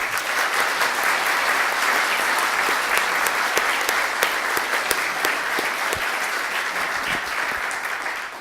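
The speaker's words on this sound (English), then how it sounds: "Let's give him a round of applause." Sustained audience applause at a 2019 installation ceremony, a dense, even roar of clapping with sharp individual claps standing out, continuing at full strength before tapering slightly near the end.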